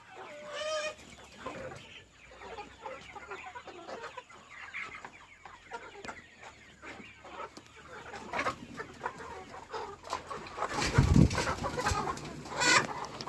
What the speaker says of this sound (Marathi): हे चार महिने पूर्ण झालेले कोंबडे व तलंगा आहेत